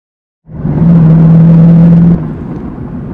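An MGB GT V8 starts up loud and close, its engine holding a steady droning tone for about two seconds before easing back to a lower idle-like rumble.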